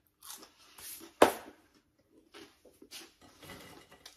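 Close, crisp crunching as someone bites into a coated hash brown fry, one sharp loud crunch followed by softer chewing crackles, with no talk over it.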